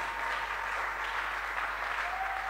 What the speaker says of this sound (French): acclame encore pour la gloire de Jésus